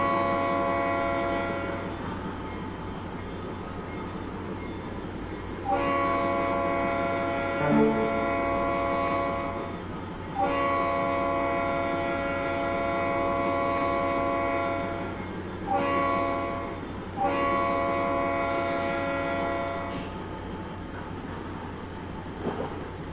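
A freight train hauling boxcars rolls past and sounds its horn in several long, loud blasts separated by short gaps, over a steady low rumble of the moving cars.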